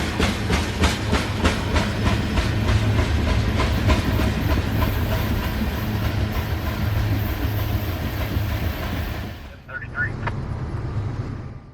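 Freight train C-736 rolling through Ackworth in July, a steady loud rumble with rhythmic clickety-clack of wheels over rail joints for about nine seconds, then dropping away to quieter ambient noise as the last cars pass.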